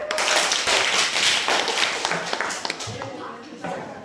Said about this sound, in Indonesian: Kami akan tepuk tangan